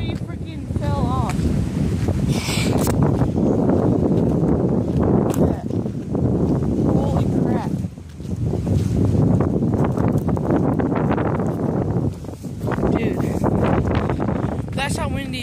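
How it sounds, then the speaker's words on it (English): Strong wind buffeting the microphone in loud, continuous rumbling gusts, with brief lulls, and a person talking over it. "Guys, it is so windy outside"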